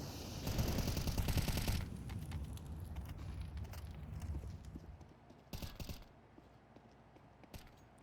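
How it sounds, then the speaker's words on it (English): Rapid running footsteps in Counter-Strike on the Nuke map during an IEM Dallas 2024 pro match, a dense patter of steps mixed with sharp bursts of gunfire that fade toward a quieter stretch. "He's heard all these footsteps as they run away."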